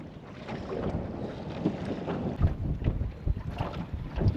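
Strong wind over Lake Macquarie buffeting a small fishing boat, a loud continuous rumbling roar with choppy gusts and thumps against the microphone, no voices.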